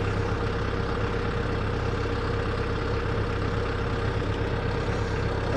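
A tractor engine idles steadily and close by during rototiller maintenance, a continuous low rumble with no voices over it.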